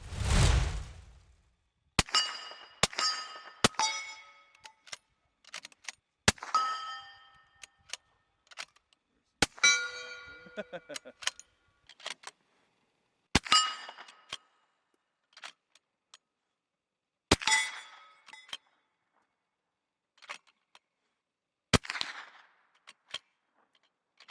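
A Tikka T3x rifle in .308 Win firing subsonic Berry's 220-grain bullets over Trail Boss powder: about a dozen sharp, muted cracks spaced a few seconds apart, each followed by brief clinks, with quiet stretches between shots.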